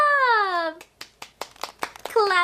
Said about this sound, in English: This is clapping.